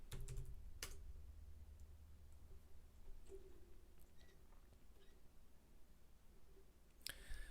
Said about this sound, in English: And then we're going to just type the command make.